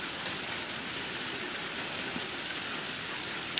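Rain falls steadily in Bandipora, a constant even hiss of drops on surfaces with no break and no voices.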